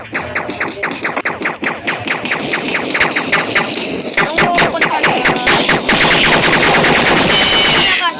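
Rapid gunfire crackles through a video game battle, with dense bursts of automatic shots that build into heavy overlapping fire and loud impacts near the end.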